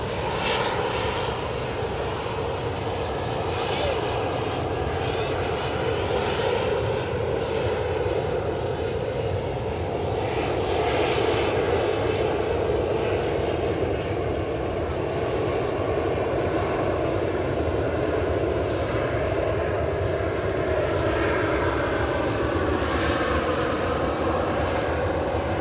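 A Swiss Airbus A220 jet landing at Manchester airport, heard as a loud, steady engine roar that lasts throughout with no talking.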